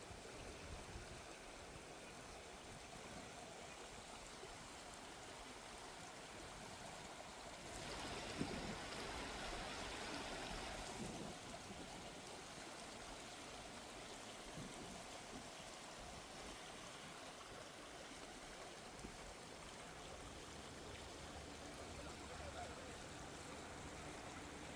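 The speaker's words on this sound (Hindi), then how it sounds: "किकिंग हॉर्स रिवर के तेज बहाव ने पत्थरों को काट कर एक प्राकृतिक पुल बना दिया है और पानी की गड़गड़ाहट सुनकर ही रोंगटे खड़े हो जाते हैं" The Kicking Horse River at Natural Bridge produces a steady, broad rushing roar of fast water cutting through rock, constant and enveloping throughout, heard from nearby with a brief swell in loudness partway.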